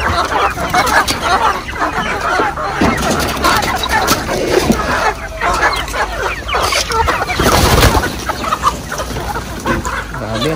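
A flock of chickens in a backyard poultry farm, among them some sick birds, clucking continuously and densely close by, with busy overlapping calls throughout.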